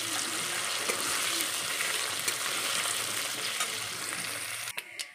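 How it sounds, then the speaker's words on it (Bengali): Potatoes frying in oil in a home kitchen pan, a continuous close crackling sizzle with occasional stirring clatter, ending in a few sharp knocks. "মা মশলা করছে আর আমি তাই জন্য আলুটা ভেজে নিচ্ছি।"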